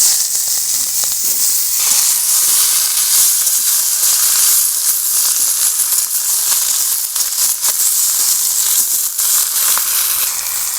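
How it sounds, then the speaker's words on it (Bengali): Malabar spinach leaves fry in hot oil in a wok, a loud, steady, close sizzle that hisses without a break from start to finish. "আর তেলটা গরম হয়ে গেছে, এবার আমি পুঁই শাকগুলো কড়াইয়ের ভিতরে"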